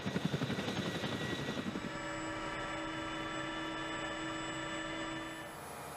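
The world's largest production helicopter runs nearby. Heavy rhythmic rotor thumping fades after two seconds into a steady, loud turbine whine with sustained engine tones.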